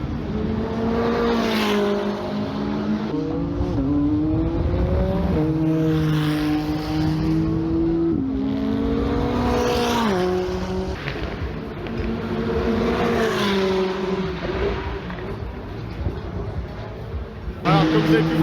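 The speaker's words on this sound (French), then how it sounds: "il y a des McLaren Trophy qui sont en train de tourner" McLaren Trophy race cars lap the Spa circuit during 24 Hours of Spa centenary weekend, engines rising and falling through gear changes in several loud passes, with a sharp new burst near the end.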